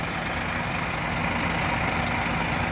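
A tractor engine runs steadily and close, a continuous low idling rumble that holds an even level throughout, with no voices over it.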